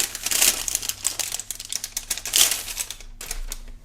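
Plastic packaging of a Spigen Ultra Hybrid MagSafe iPhone 13 case being pulled open, close crinkling and crackling in quick irregular bursts, ending with a sharper tearing rustle.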